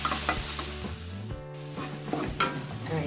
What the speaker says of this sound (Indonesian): Kita tumis-tumis hingga harum ya